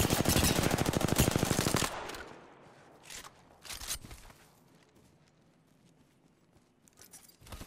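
Rapid automatic gunfire in a video game rattles loud and close for about two seconds, then a few scattered fainter shots and distant pops follow, with no talk.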